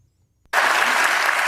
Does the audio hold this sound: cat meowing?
no